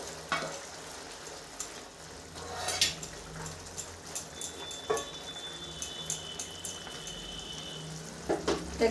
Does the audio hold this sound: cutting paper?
no